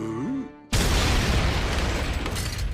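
A cartoon explosion from a Regular Show shootout with rocket launchers against animatronics cuts in abruptly after a short tonal sweep, a loud booming blast followed by a dense, roaring rumble of debris and fire that holds steady to the end.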